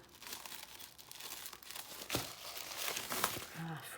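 A large tissue paper sewing pattern crinkles and rustles as it is unfolded, soft continuous crumpling with occasional louder crisp rustles, quiet and close.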